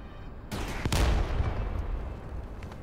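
A big cannon fires in the video game The First Descendant, a sudden booming blast followed by a rumbling, crackling tail that fades slowly.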